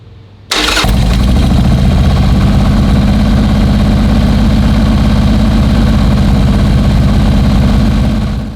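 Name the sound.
motorcycle engine with S&S Cycle 1200 kit running for break-in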